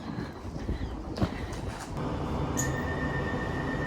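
Steady low rumble of a passenger train underway, with a couple of clanks early on, then an even, continuous interior drone and a faint high whine.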